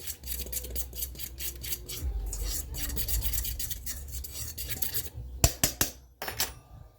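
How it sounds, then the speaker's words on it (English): A fork whisking apple butter pie filling in a bowl: quick rhythmic scraping and clinking strokes, close up and fairly loud, with a short pause and a few sharper taps near the end, no voices. "I'm going to take my fork and just whisk it together to mix it up a little bit."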